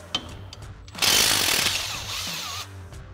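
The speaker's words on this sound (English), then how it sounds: "So we'll grab our 18 mil socket and 18 mil wrench," A ratchet on an 18 mm socket clicks briefly, then a longer burst of rapid mechanical ratcheting loosens a Jeep Wrangler JK's lower shock mounting bolt, close by with no talking.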